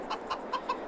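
A chicken in Farming Simulator 22 clucks in a quick series of four or five short, evenly spaced clucks, close and moderately loud, with no talk over it.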